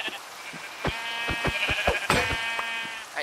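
Sheep in the Minecraft video game bleating in a quick run of short, wavering calls, several overlapping near the middle, close and clear over faint background.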